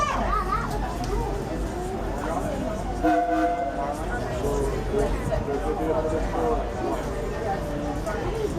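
The Disneyland Railroad train rolls along with a steady low rumble and rattle of the cars, while people talk and a few tonal sounds briefly rise over the continuous ride noise.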